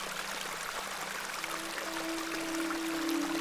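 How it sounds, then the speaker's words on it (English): A small flowing beck in a folk horror adventure game, a continuous gentle rush and trickle of water, steady and close, with a faint low tone beneath it. "This is a lovely little beck."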